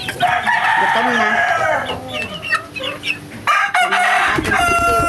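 Hungry young chicks peep and cheep busily while pecking at feed laced with vitamin-mineral powder, with bursts of clucking and a rooster-like call close by, steady and dense throughout.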